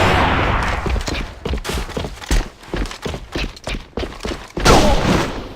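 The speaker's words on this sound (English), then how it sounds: "Fire in the hole! Grenade straight ahead!" Grenade blasts and gunfire in the online shooter Alliance of Valiant Arms during a competitive match, a loud choppy run of repeated bursts and thuds with a heavier explosion near the end.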